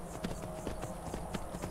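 A horse gallops in the video game Skyrim, quick steady hoofbeats over a constant background, fairly near and moderate in volume.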